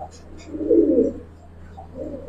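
Giribaz and coloring pigeons coo close by, one rolling call swelling in the middle with a softer coo toward the end over a low hum.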